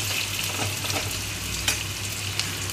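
Five large chopped onions fry in oil with a continuous close sizzle and a couple of sharp stirring scrapes, no talking.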